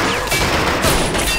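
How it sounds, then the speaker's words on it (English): Dense, loud battlefield gunfire from the World War II strategy game Men of War, a continuous crackling barrage with a heavy crash in the middle and no talk. "Lots of firing in the middle."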